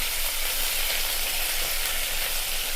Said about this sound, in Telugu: కరివేపాకు వేసి కొంచెం వేగనిచ్చి